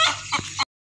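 Hen clucking close by on a family farm in Pakistan, right after laying an egg. It gives a quick series of loud, sharp clucks, then the sound cuts off abruptly.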